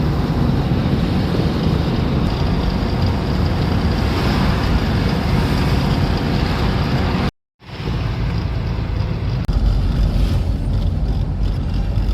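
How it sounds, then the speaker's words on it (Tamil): Steady, loud rushing of heavy water with broadband roar and wind buffeting, continuing without a break apart from one brief dropout. "பெரிய ஆறில் எவ்வளோ தண்ணி போகுதுன்னு பார்ப்போமா"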